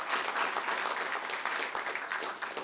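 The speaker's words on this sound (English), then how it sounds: "So special round of applause for them as well." Audience applause for a steering committee at a BIBA Barbados event, steady, dense clapping from a crowd sustained throughout with no talk over it.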